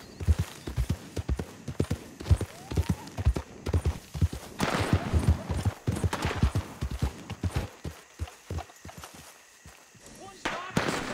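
Horse hooves clip-clopping at a brisk gallop in the Red Dead Redemption 2 video game, a steady rapid rhythm up close, with a rider's voice and bursts of gunfire-like cracks mixed in.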